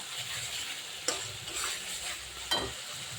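Goat meat tipped into fried spices in a pan, a continuous close sizzle with two sharp stirring scrapes.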